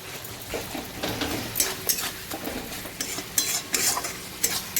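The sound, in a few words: stir-frying spice masala with cumin powder for egg curry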